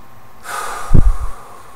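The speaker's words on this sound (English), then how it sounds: "Take a deep breath." A single slow, deep breath taken during a guided present-moment relaxation exercise in body-mind-behavior therapy, a soft rushing inhale that swells into a brief, heavier exhale, close and alone in a quiet room.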